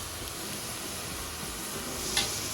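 Mutton masala frying in a pan for a spicy dry village-style dish, with a steady close sizzle and soft stirring scrapes and no voices.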